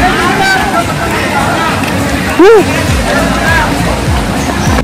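A river in a national park forest rushes with a steady, broad wash of flowing water. Voices talk over it, and one short tonal sound rises briefly above the water in the middle.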